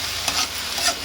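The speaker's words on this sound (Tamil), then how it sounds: "இப்போ நம்ம மொத்த வெண்டைக்காயும் இதில் சேர்த்து மொத்தமாகவே அப்படியே ஓரம்பாரங்கிறதெல்லாம் அப்படியே தள்ளி கிளறி விட்டுக்கலாம்." Okra and tomatoes get stirred in a frying pan, a brief, close hiss of sizzling with two quick scraping sweeps of the spatula.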